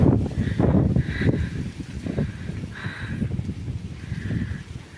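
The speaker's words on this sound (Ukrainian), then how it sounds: "Вітер такий, що, напевне, нічого не чути." Strong wind buffets the microphone in heavy low rumbling gusts in December in Truskavets, with faint rustling and scattered movement noise throughout.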